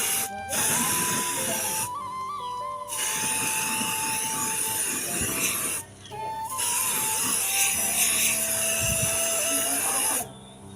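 An aerosol spray can hisses in long steady bursts as car wheels on a Maruti Eeco get painted. Short silent gaps break up the bursts, and a faint whine runs under them.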